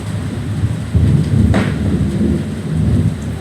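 Steady heavy rain hisses throughout with a deep rumbling undertone, like a downpour during a storm, fairly loud and continuous.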